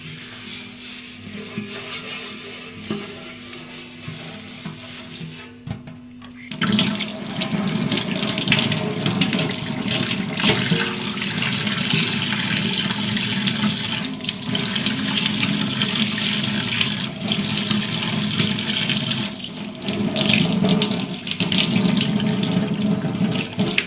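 A tap runs steadily into a sink basin while it is scrubbed. Quieter rubbing comes first, then the water gushes loudly and continuously for most of the time, with no voices.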